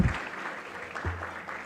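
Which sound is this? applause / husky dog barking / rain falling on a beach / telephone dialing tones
applause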